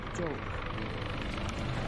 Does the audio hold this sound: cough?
no